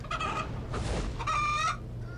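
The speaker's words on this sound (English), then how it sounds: "Kill that. Kill the chicken." A chicken in the video game RuneScape 3 gives a few quick clucks and a short squawk, close and clear over a low background hum with no talking.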